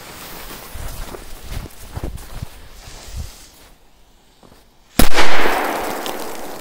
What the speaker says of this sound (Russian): это будет самая мощная петарда на сегодня в этом топе